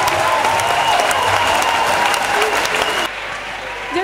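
Applause and cheering from a large audience at a religious gathering, a dense, steady roar of clapping that stays loud throughout, then drops in level about three seconds in and continues more thinly.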